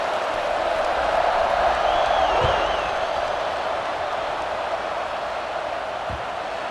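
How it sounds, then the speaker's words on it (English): A stadium crowd in the video game College Football 26 keeps up a steady roar of cheering at moderate distance, with a whistle-like whoop partway through and a commentator's voice over it. "this crowd is feeling themselves after that last drive"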